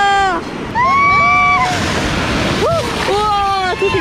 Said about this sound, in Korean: 파도 온다.